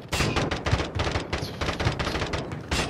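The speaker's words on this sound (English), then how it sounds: "I'm just shooting to scare." Rapid bursts of automatic gunfire in a battle royale shooter game, a dense stream of loud close shots with brief gaps, no talk.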